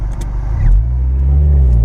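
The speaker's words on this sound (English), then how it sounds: "It's quicker, definitely, but you're revving it more, though." Toyota MR2 SW20 with a 3S-GTE turbo engine, close and loud, rising into a steady rev with a deep droning tone and no talking.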